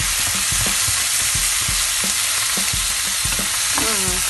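Ginger and other ingredients frying in a pan, a loud, dense sizzle with a steady run of scraping stirs, close up and with no one talking.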